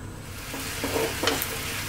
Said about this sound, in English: that soy is boiling